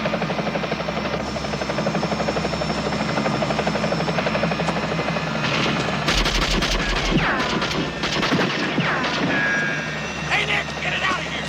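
A helicopter hovers close by with a steady, loud rotor and turbine roar through the whole stretch, joined midway by bursts of crashing, impact-like noise.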